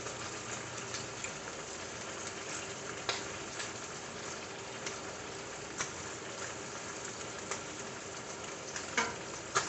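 Meatballs cooking in sauce in a frying pan give a steady close sizzle and bubbling hiss, with occasional soft clicks and stirring taps, and no voices.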